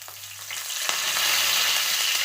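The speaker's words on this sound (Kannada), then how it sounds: "ಸಾಸಿವೆ ಕಾಳು ಚಟ ಚಟ ಅನ್ನಕತ್ವ." Mustard seeds crackle and pop in hot oil, a dense steady sizzle with scattered sharp snaps that builds slightly and holds loud and close throughout.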